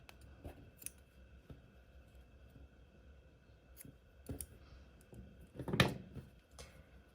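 Scissors snip through crochet yarn nearby, with a few light clicks and one sharper, louder cut near the end against a quiet background.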